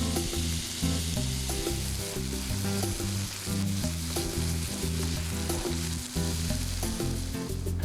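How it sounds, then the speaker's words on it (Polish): Onions and mushrooms sizzling steadily in a hot pan, a continuous crackling hiss with occasional stirring, close and loud, no talking. "Podczas smażenia dodaję pokrojoną cebulę i pieczarki."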